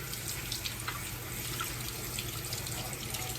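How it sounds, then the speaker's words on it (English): Raw shrimp are rinsed under a running kitchen tap in a colander, giving a steady, close rush of water with faint drips throughout. "these are raw, so I like them to be rinsed really, really well before we cook them"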